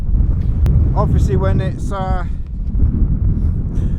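Strong wind on Dartmoor blusters steadily across the open moor as a deep, continuous rumble, with someone talking over it throughout.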